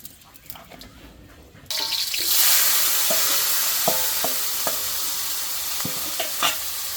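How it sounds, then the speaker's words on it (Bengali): Mustard oil poured into a hot wok bursts into a loud, continuous sizzle after quieter kitchen clatter, crackling steadily with small pops and clinks through the rest. "কড়াই গরম হয়ে গেছে, কড়াইয়ের মধ্যে সরষের তেল দিয়ে দিব"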